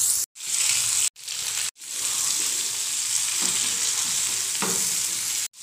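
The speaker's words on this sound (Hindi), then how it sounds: "तो चलिए हम इसे तेल के अंदर छौंक लगा देते हैं।" Spices hit hot mustard oil in a steady, loud sizzle and crackle that fills the clip, broken by a few short silent gaps, with faint stirring clinks near the end.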